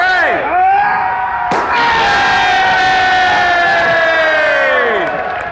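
A live audience erupts in loud cheering, with shrill whoops and screams ringing out over a dense crowd roar that holds for several seconds.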